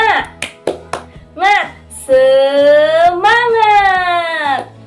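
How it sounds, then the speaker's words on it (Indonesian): In a fifth-grade maths lesson, a class does a spirit clap: a few sharp claps come first, followed by a loud, drawn-out sung shout that rises and falls for a couple of seconds. "yuk kita bersama-sama tepuk semangat"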